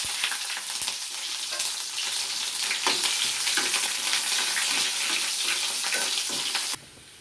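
Onion pieces frying in hot oil with dried red chillies, a loud, steady crackling sizzle that fills the pan and drops off abruptly at the end.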